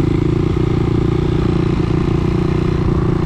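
A Kawasaki KLX 230R dirt bike labouring through deep mud in a ravine, its engine droning loud and close, steady throughout with a rough clattering edge.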